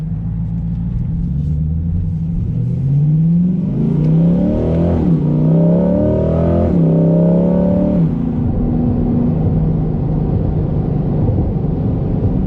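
A Chevrolet C8 Corvette with a Borla ATAK exhaust revs up at half throttle with a rising, buzzing exhaust tone, then settles back to a low rumbling idle.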